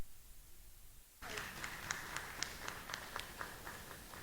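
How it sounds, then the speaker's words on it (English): A small conference audience applauds a panelist at a session on visibility and networking; after a second of near silence, modest clapping starts suddenly and carries on evenly, fairly faint and roomy, with a few sharper claps standing out. "A round of applause for her."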